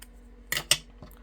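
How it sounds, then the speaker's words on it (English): Scissors snipping a small square of paper for a handmade card, two quick crisp cuts close by followed by a fainter third snip in a quiet room. "I am going to cut a little square."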